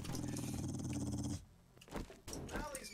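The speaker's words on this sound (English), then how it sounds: "I hear a dog." A dog growls in the survival game 7 Days to Die, a low sustained rumbling snarl for over a second, followed by quieter shuffling and softer noises.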